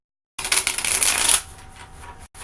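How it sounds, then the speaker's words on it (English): A deck of tarot cards is riffled in a quick, crisp burst of shuffling close to the microphone, followed by softer handling and a brief pause. "What I do is I shuffle"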